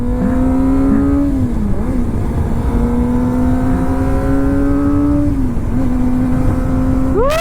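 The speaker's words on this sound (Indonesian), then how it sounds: "emang ini nih knalpotnya gacor ini" A Kawasaki motorcycle with a loud aftermarket exhaust revs hard on an empty road in Japan, its engine note climbing through the gears in long rising pulls with brief dips between them, close and loud with no talking.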